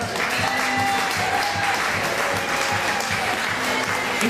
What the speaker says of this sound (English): Let's have a round of applause for our latest Message in a Bottle winner